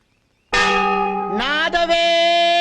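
A bell rings with a bright, sustained metallic tone that sets in suddenly, holds steady and wavers briefly near the end, loud and close with no talking.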